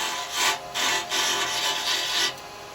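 A carbide chisel cutting a small wooden Christmas angel on a lathe, shaping a chamfer on the bottom: a close, scraping, hissing cut in several short passes that end abruptly, with no voices.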